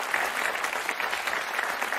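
Studio audience of a French TV word game show clapping steadily and warmly, a dense even patter of many hands held at a constant level with no voices over it.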